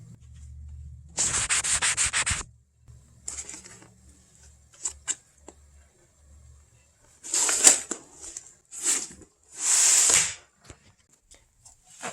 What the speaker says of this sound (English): The next step is to cut right beside the stitch here.